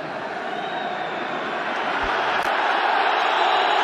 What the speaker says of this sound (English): Crowd enjoyed Ronaldo getting tackled.